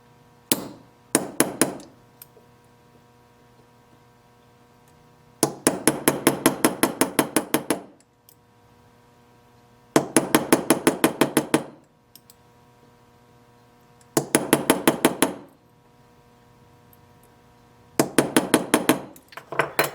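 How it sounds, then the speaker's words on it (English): Rapid bursts of light taps from a small hammer on ignition coil metal, ringing and close, repeated in several separate clusters with short pauses between. "I got just a little hammer here. Just a little whacker."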